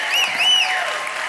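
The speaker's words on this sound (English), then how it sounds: "I am receiving that applause" Audience applause at a speaking session, a steady dense wash of clapping hands filling the room for the full moment, loud and continuous with no pauses.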